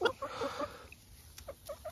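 Several hens, including a Cochin, cluck in short, irregular bursts, fairly close, with a quieter stretch in the middle and a faint high hum behind them.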